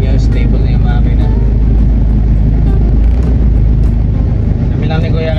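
A motorcycle engine idling steadily up close, a loud constant low rumble with a little mechanical chatter on top, while someone talks over it.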